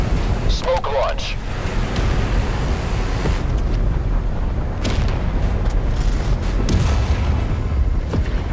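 Smoke launcher on a tank firing in the MWT Tank Battles video game, a loud deep boom over a constant rumbling battle bed, followed by softer thuds and engine drone.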